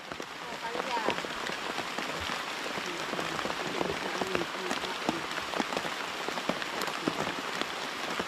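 Steady rain patters on a hard surface, with scattered louder drops splashing nearby and faint voices in the background.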